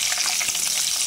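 Dried red chillies, a bay leaf and cardamom pods hit hot oil for a fish kalia, giving a brief, bright, close sizzle with crackling spatter that stays steady throughout.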